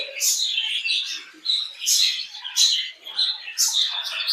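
Several small caged birds chirp and twitter close by, bright high calls overlapping in quick irregular bursts.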